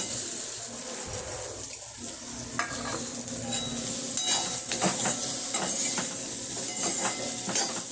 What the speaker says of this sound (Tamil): இப்போ தேங்காயை வறுப்போம்.